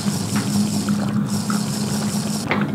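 Water pours into a glass in a steady, continuous splashing stream over a low background hum, with no break in the flow.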